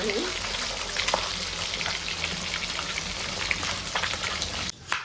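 Fish sizzling in hot oil in a pan just after being turned for a fish curry, a dense, even, crackling hiss held close and loud, dropping out briefly near the end.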